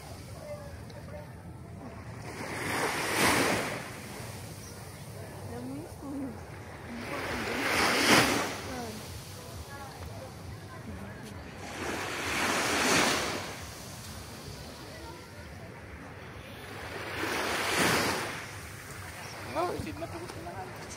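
Sea waves roll onto the shore in slow, regular swells that build and break about every five seconds, loud and close, with voices faintly under the surf.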